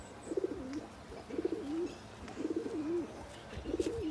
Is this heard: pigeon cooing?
yes